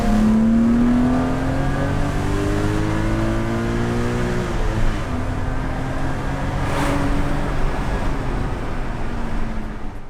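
A 1990 BMW E34 535i carrying a swapped-in M5 engine revs hard, its pitch climbing then settling into a loud, steady high-rpm drone, close and with no one talking.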